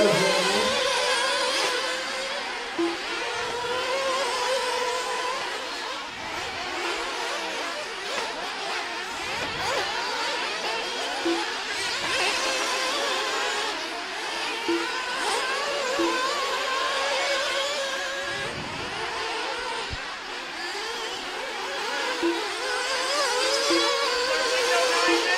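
Nitro 1:8 scale RC buggy engines race at a track, their high-pitched buzzing whine rising and falling continuously as several cars pass, with a race announcer's voice carrying over the steady engine drone.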